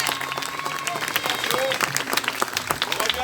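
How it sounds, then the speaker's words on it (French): An outdoor crowd applauds a stuntman at a stunt show, with steady clapping throughout and a voice faintly audible underneath. "On l'applaudit bien fort."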